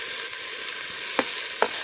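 Chopped tomatoes sizzle and fry with onions in a pan for chicken gravy, a steady bright hiss with a few sharp crackles and spatters, close and alone without any voices.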